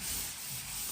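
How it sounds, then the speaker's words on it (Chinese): Primed wood is hand-sanded with sandpaper by a worker, making a brief, steady scratchy rub at moderate volume with no voices. "现在师傅呢就正在打磨"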